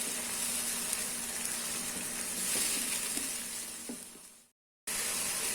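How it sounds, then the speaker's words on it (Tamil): Green chili, ginger, garlic, mint and coriander paste sautéing with onions in a pan for biryani, a steady soft sizzle and hiss running continuously, then cutting out abruptly for a moment before resuming. "பச்சை மிளகாய், இஞ்சி, பூண்டு, புதினா கொத்தமல்லி பேஸ்ட் போட்டுக்கலாம். இது நல்லா சுருளை வதக்கிக்கலாம்."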